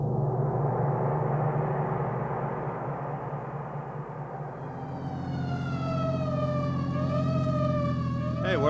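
A siren wails continuously, its pitch rising and falling as it sweeps, with engine rumble underneath, fairly close and steady throughout.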